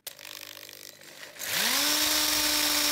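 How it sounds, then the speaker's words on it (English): A small power drill spins up and whines steadily into a piece of whittled wood, close by, after a moment of quieter handling noise. "Let's drill it then."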